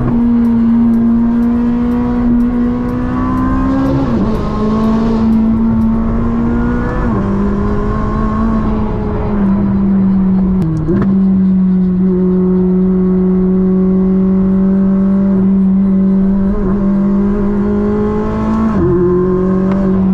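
A Koenigsegg supercar drives through a snow storm, its engine droning loud and close with a steady low tone, shifting pitch and briefly dipping between gears over twenty seconds.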